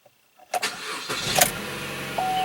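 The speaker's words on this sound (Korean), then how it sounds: "네, 엔진 잘 걸리고" A 2014 Chevy Cruze 1.4-litre turbo engine cranks and catches, sputtering briefly before settling into a steady idle, close by with no talking.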